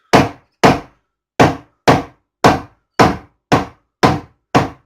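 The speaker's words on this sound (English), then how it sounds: "It's just really almost letting the hammer do the work. Just tapping it gently." A hammer tapping a wooden joint on a bench, nine crisp, close knocks with short pauses between them in a steady rhythm, alone in silence.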